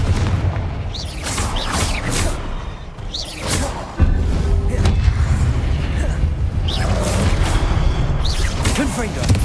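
Repeated fire-spell blasts in Hogwarts Legacy gameplay, a steady barrage of booming bursts and crackling impacts over continuous rumbling combat noise, loud and dense throughout with a sharp jump in level midway.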